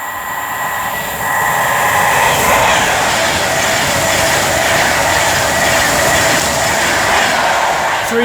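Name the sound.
Pendolino train passing through station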